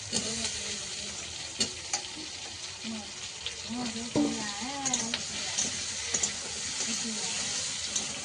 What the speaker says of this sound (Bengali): পেঁয়াজ আর ফোড়নটা ভাজা ভাজা হয়ে এসছে আর এবার দিয়ে দেবো ওলটা সঙ্গে চেরা কাঁচা লঙ্কাও আছে